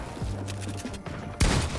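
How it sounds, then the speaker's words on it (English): Gunfire in a first-person shooter video game: a few sharp shots early on, then a loud, dense burst near the end, with no talking over it. "He just shot me through the wall!"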